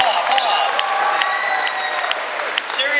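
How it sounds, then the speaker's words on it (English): A large convention crowd at a pony fan convention applauds and cheers, dense continuous clapping with scattered whoops and shouts rising above it, loud and close throughout. "Give yourself a round of applause."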